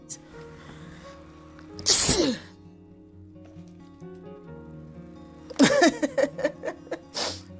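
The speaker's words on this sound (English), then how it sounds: "the scent in this one's going to make me sneeze more" A single sharp sneeze bursts out near the start, then a run of short breathy bursts follows over a low steady hum in the background.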